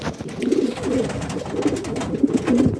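A pigeon cock in good condition coos in a breeding loft, repeated low throaty calls close by over a steady background hum.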